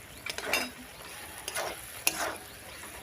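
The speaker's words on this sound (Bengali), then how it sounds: "এবার দুটো টমেটো কুচি করে দিয়ে দিলাম মশলার মধ্যে" Chopped tomatoes added to frying spice masala hiss and crackle softly in the pan, with a few brief spatula scrapes and one sharp utensil tap over a steady low sizzle, heard up close.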